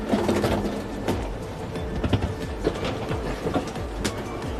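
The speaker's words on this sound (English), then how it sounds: "Let's see what this high-speed train looks like." Chinese high-speed train running on rails near Beijing South, giving a steady broadband rumble with faint rhythmic clicks and knocks throughout, close and continuous with no voices.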